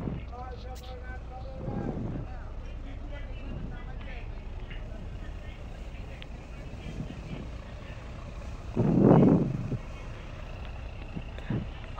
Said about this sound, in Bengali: সদরঘাট যাওয়ার জন্য ট্রলার উঠেছি।